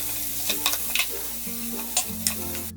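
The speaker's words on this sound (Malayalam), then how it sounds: "ഈ അരിഞ്ഞു വെച്ചിരിക്കുന്ന സവാള ഇതിലേക്ക് ഇട്ടിട്ട് വഴറ്റി കൊടുക്കാം" Chopped onions sautéing in hot oil, a close steady sizzle over a low background hum, with occasional sharp ticks and scrapes from stirring and no voices.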